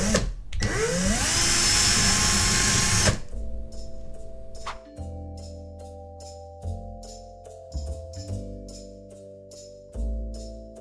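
A small power drill widens M1.6 mounting holes to 2 mm in a drone mount adapter, running loud for about three seconds at the start. A series of short whirring tool bursts and pitched tones follow at varying levels.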